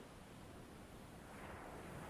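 Waves roll in and fall back in a brief, even wash of ocean surf, a steady hiss with no speech over it.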